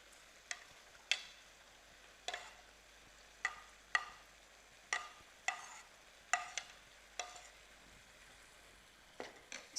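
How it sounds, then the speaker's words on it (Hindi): Carrots frying in a pan on a cooking show, with a soft, faint sizzle beneath a steady series of sharp clacks as a utensil stirs and scrapes about every second. "तो अभी हम इसमें डाल रहे हैं गाजर,"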